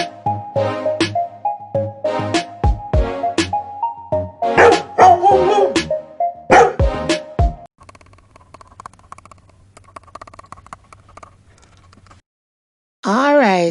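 A small puppy yaps in quick bursts of high, sharp barks, then falls to softer whimpering sounds under a low hum, ending with a brief loud cry.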